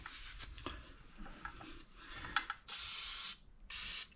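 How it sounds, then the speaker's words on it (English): Two sharp hissing bursts from a spray can of lubricant on the front end of an old barn-find vehicle, the first longer than the second, following some faint handling and clicking noises nearby. "I always like to spray a little stuff here, lube on it"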